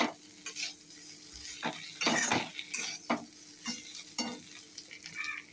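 Bitter gourd, potato and spices stir-fried together in a pan, with several sharp utensil scrapes and clinks against the pan over a soft background sizzle, close and moderately quiet, without speech.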